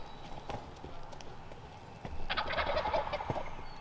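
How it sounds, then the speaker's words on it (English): Four or five wild turkey gobblers on a foggy morning gobbling in a loud burst of overlapping calls, several birds at once, rising in intensity partway through against an outdoor background. "There's like 4 or 5 gobblers in there. They're pumped up."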